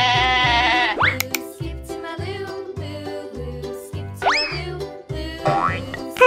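A cartoonish goat bleats in wavering, swooping calls over a bouncy children's music track with a steady thumping beat.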